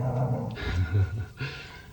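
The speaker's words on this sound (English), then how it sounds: "Sorry for the noise, the dog's around somewhere." A dog makes a few short, low growling and whining sounds close by, brief and rough.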